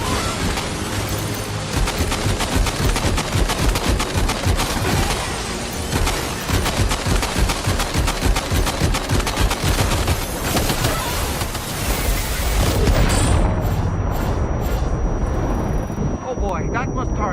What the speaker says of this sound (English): The Magellan's main cannon is online and ready to provide fire support.